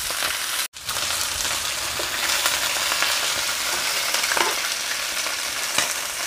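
Quail frying in a hot pan for Jamaican curry quail, a loud, dense, continuous sizzle close up, with a brief clunk near the start and faint stirring scrapes.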